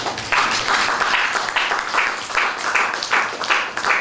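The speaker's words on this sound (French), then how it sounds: "Tu peux applaudir mieux que ça." Audience at a savings conference applauding, a dense wash of clapping that swells in pulses and stays fairly loud throughout.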